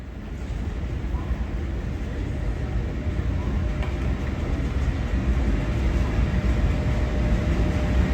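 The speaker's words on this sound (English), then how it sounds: "Now departing platform 2, we have Oscar sets H6 and H52 on an all-station service to Newcastle interchange." Oscar sets H6 and H52, a passenger train on an all-station service to Newcastle Interchange, pull out of platform 2 at Gosford station with a steady low rumble that slowly builds and stays continuous throughout.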